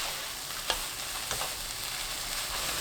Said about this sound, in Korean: 묵은지 넣고 1분 볶아주세요